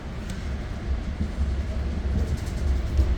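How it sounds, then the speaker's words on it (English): An exo commuter train on the Mascouche Line rumbles past in winter: a steady low, heavy roll that swells slightly toward the end, with no talking. "Every time I film a video, there's always a train here."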